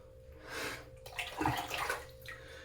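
Cold tap water running from a bathroom faucet during a shave, a steady close splashing stream that swells in the middle then eases, with no talk over it.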